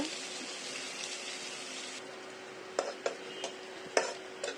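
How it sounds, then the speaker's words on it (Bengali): Chopped onions sizzle in oil in a kadai with a steady hiss, then several sharp clinks and scrapes as a spoon stirs them. "পেঁয়াজ কুচিতে আমি হালকা ব্রাউন কালার করে ভেজে নেব"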